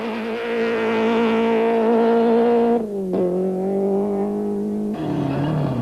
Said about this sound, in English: The Harriman Class B Opel Kadett is still in the running, despite using nearly a litre of engine oil in each stage